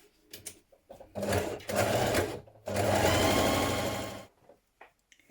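A sewing machine stitches the front and back facings of a hoodie together at the side seam, running in two close, steady bursts of whirring with short pauses and light handling noises around them.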